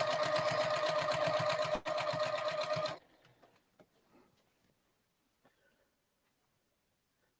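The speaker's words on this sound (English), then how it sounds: "let me sew a little and I'll show you that" A sewing machine stitches quilt binding in a fast, even rapid-fire burst for about three seconds with one brief pause, then stops, leaving faint handling clicks and quiet rustling.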